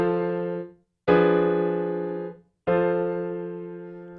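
Three sustained chords played one after another, a progression with a common tone held in the bass that moves to a fully diminished seventh chord, each ringing clearly and fading before the next, alone with no talk.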